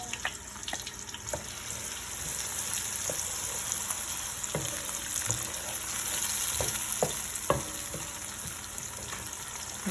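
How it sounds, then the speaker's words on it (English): Onions being stirred in a pot of oil that is not yet fully hot, a steady soft sizzle with scattered scraping clicks from the spoon, close by and without talk, for a Nigerian vegetable stew. "I'm just gonna stir my onions to the pot. And I want those to fry up."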